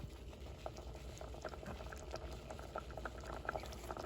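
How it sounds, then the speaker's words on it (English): Tofu simmers in a coconut curry gravy, a soft, continuous bubbling with small popping patters, quiet and close, with no one speaking. "you can hear the boiling noise of tofu in this coconut gravy"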